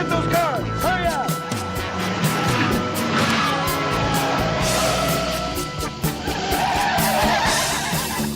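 Tires squeal and skid as cars race in a chase, sharp screeching sweeps over engine roar, with shouting voices mixed in.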